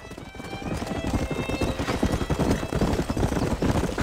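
Wild horse hooves clip-clopping in a steady galloping rhythm with whinnies and neighs in the Red Dead Redemption video game on PS5, loud and close throughout.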